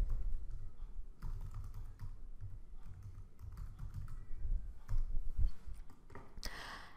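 Search terms are typed on a computer keyboard, a steady run of quick close keystrokes with scattered louder taps and a final burst of clicks, with no talking.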